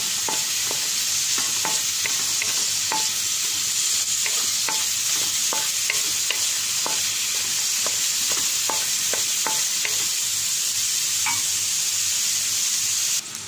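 Onion, garlic and ginger sautéing together in a pan for sinigang na hipon, a loud continuous sizzle with a steady run of spatula taps and scrapes throughout, close up and without talk.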